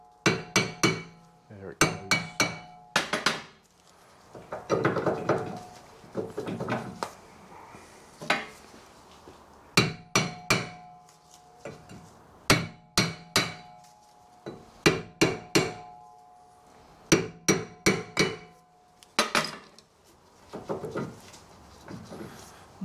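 Hammer blows strike a seized rear brake disc on a 2010 Kia Sportage 2.0 petrol, landing in quick bursts of sharp metallic clanks with short pauses between, up close, with a brief spoken remark.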